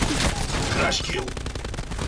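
Rapid bursts of automatic gunfire in the Call of Duty Black Ops 4 multiplayer video game, loud and dense over about two seconds with game effects blended in.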